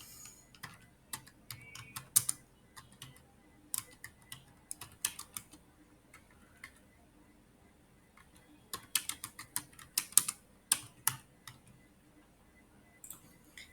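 Someone types a to-do item on a computer keyboard in scattered bursts of light, clicky keystrokes separated by quiet pauses, with a busier cluster of taps near the end.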